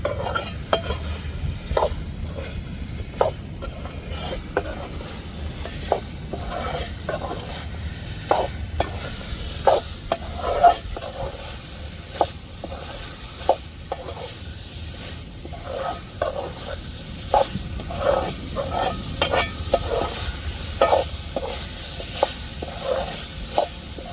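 Chicken curry being stirred and fried in a pan, a low bed of sizzling beneath a regular series of clinking, scraping spoon strokes against the pan, close and rhythmic, without any voices.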